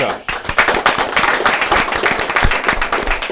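A crowd at a French-speaking community event keeps up loud, close, continuous clapping with sharp individual claps standing out, dipping briefly at the very start.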